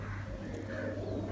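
A Teddy pigeon, an old Ferozpuri breed, gives a soft, low coo, close by and brief, over a faint background hum.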